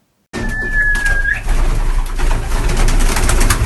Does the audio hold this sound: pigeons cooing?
yes